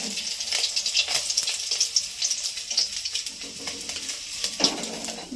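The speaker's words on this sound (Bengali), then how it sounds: "বাকি মাছটাও ভেজে নেব।" Tilapia fish fries in oil, an uneven crackling sizzle with popping bursts and the occasional utensil scrape, close and steady for several seconds without any speech.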